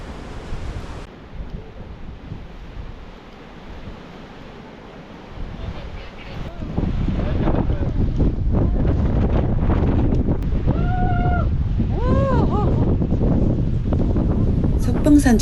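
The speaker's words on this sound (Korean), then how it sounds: "석회암 절벽 사이로 어마어마하게 강풍이 불어오고 있습니다" Strong gale gusting between limestone cliffs on a mountain ridge, roaring as heavy broadband wind buffeting the microphone, swelling louder after the first few seconds; a person's voice briefly comes through midway.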